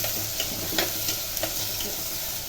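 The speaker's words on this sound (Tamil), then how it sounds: "வெங்காயம் நல்லா வதங்கிச்சு" Onions sautéing in a pan for fish curry make a steady, close frying sizzle with several light scraping stirs of a spoon, and no voices.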